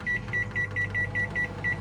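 A microwave oven hums steadily while a sharp electronic beep repeats about eight times in an even, quick rhythm.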